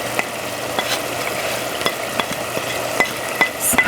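Napa cabbage frying in a pan as ingredients go in and get stirred, giving a steady close sizzle with scattered clicks and scrapes of a utensil against the pan.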